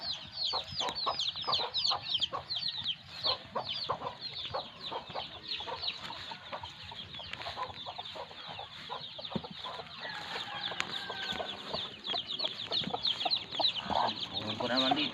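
Many chickens cluck and chatter continuously nearby, a busy overlapping flock with occasional louder squawks throughout.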